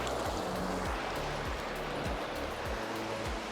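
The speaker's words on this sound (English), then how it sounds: "this is the Uchima River here in Zacapo, San Pedro" Clean mountain water of the Uchima River rushing steadily near San Pedro de Vilcabamba, a continuous broadband wash close by, with a few low thumps from water breaking over stones.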